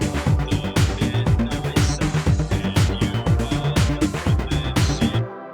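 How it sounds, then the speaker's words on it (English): A busy breakbeat drum pattern thumps along with crisp snares, ticking hi-hats and sharp claps, looping loud and steady before stopping abruptly. "It's got some kind of like breakbeat stuff on it."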